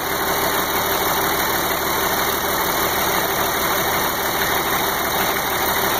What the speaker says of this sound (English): Straight pipe, 880. Waukesha straight six, naturally aspirated diesel.